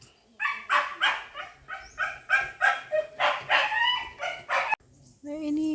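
A dog gives a quick run of about a dozen close, evenly spaced barks and yips, then breaks off into a short whine, in a hot outdoor setting with no talking.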